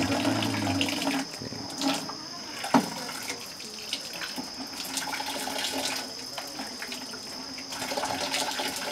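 Water runs steadily from a tap in a room, a continuous hiss with a few faint knocks and no talking.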